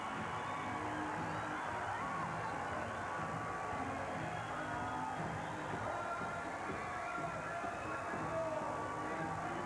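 Hockey arena crowd cheering after a goal at a Tri-City Americans versus Regina Pats game, a dense, steady roar that fills the hall for the whole stretch with no pause.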